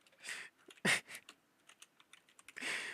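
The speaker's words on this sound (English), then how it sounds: "It's not that I can't spell, it's that my typing is bad." Close, uneven typing on a computer keyboard: quick clusters of clicks and clacks broken by short pauses, with a couple of heavier key strikes, alone and without talk.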